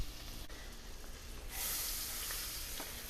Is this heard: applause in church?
no